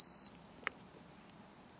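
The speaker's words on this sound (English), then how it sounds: "So I'm on ohms right now with an alarm." A multimeter's continuity alarm, set to ohms, sounds during no-spark diagnosis of a 1988 Yamaha TerraPro: one steady, high-pitched beep at the start that cuts off abruptly, followed by quiet room tone and a faint click.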